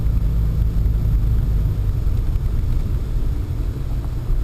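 Pontiac Sunfire driving along a road, with a steady low engine and road rumble that stays loud and constant throughout, with no talking.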